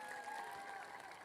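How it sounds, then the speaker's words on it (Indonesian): Rain-soaked crowd of Madiun residents at an outdoor gathering clapping steadily, a soft, even patter of many hands heard from a distance, with a faint tonal hum running underneath. "Tepuk tangan untuk Madiun."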